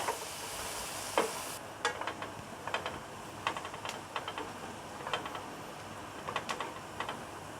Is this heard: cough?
no